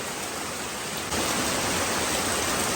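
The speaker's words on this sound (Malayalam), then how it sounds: "ഗായ്സ് നല്ല മഴ ഗായ്സ് മഴക്കൊരു ശമനമില്ല" Heavy rain pours steadily over an open paddy field, a dense broadband hiss that swells louder partway through and continues without pause.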